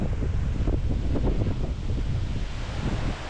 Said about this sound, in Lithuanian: O vėjas tai galit patys spręsti,